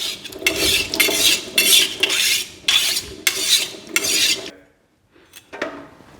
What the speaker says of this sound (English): I've got to sharpen the knife. And so I'll use a stone.